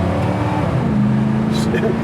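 A 1970 Pontiac Grand Prix Model J pulls hard as its four-barrel carburetor opens up, a steady, loud engine drone rising slightly in pitch from inside the big car, with people talking over it.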